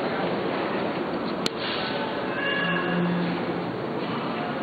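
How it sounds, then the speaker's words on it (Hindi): A cat meows faintly beneath a steady broadband hiss of background noise, with a short click partway through. "बिल्ली की आवाज भी आई है साथ साथ।"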